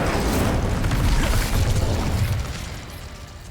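A burst of magical fire from the Incendio spell in Hogwarts Legacy, a loud, dense rumbling whoosh that holds steady before tapering off toward the end, with no talking over it.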